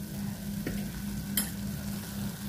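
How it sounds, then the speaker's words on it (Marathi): Masala for aloo paneer kofta curry frying in a pan, a steady close sizzle with a spoon scraping and stirring now and then, over a low constant hum. "एकीकडं आपला मसाला परततोय, आपण दुसरीकडं आपले कोफ्ते परतून फ्राय करून घेऊयात."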